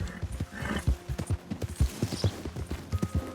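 Horse hooves clip-clop in Red Dead Redemption II, a western video game, with a quick, uneven run of hoofbeats close by and a brief whinny partway through.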